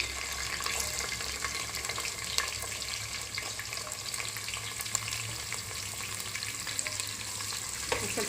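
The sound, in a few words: onions and curry leaves frying in pan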